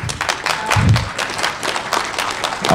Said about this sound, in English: I'll tell her you clapped.